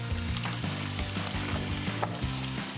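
Meat sizzles in a hot oiled pan, a steady crackling hiss with scattered sharper pops and light clatter throughout, close and moderately loud, without speech.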